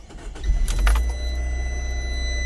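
A 2014 Fiat 500 Pop 1.4 engine started with an ignition key: jangling keys, a brief starter crank, then the engine catching and settling into a steady, slightly rattly idle close by.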